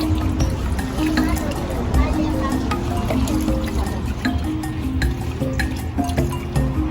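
Food being washed by hand in water in an African village kitchen, giving steady splashing, dripping and pouring sounds throughout. Low humming noise sits underneath.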